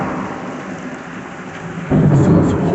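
Heavy thunderstorm downpour during a flash flood warning, steady loud rain with a deep rumble of thunder that swells sharply near the end, no voices.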